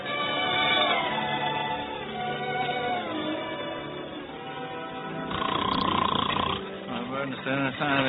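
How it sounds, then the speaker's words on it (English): A person snores loudly and continuously in a vintage radio drama, with long rasping breaths that rumble and shift in pitch. "Can't you stop that snoring?"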